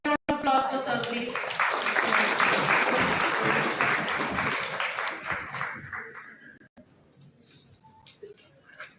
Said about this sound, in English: Everyone, a big round of applause for sir